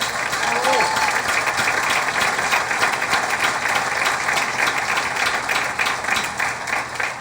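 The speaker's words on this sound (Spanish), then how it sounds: "Un aplauso para Gustavo." An audience applauds a man present at a public gathering, steady clapping from many hands heard close and continuously under a speaking voice.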